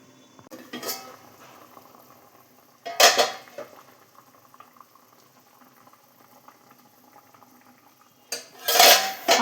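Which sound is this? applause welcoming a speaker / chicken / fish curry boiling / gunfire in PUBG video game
fish curry boiling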